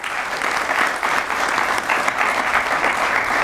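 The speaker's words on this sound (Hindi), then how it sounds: "आइए मिलके सबके लिए एक बार जोरदार तालियां" Loud, sustained applause from a crowd, many hands clapping continuously without a break.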